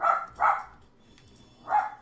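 A puppy barks three times up close, two quick barks and then a third after a pause of about a second, sharp and moderately loud against a quiet background.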